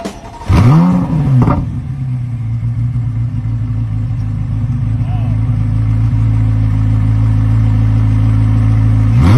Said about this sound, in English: I want to insert a short video here showing a little bit of the rev action from the Z06 because it sounds absolutely fantastic.